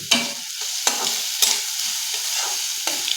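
Hot oil sizzles steadily as garlic, onion and chili fry, while a utensil scrapes and knocks against the pan several times, each stir a sharp clatter over the frying hiss.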